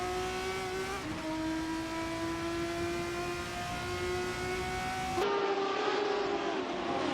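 High-pitched Formula 3 engines howl at COTA in a racing game, sustained revving with a few gear changes and a sudden shift in the sound near the end.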